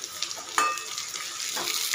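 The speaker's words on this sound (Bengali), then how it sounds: "আমার এখানে আলু পটলগুলো ভাজা হয়ে গেছে।" Potatoes and pointed gourd fry in oil in a pan, a steady broad sizzle with a brief scrape of stirring partway through, close and moderately loud with no talk.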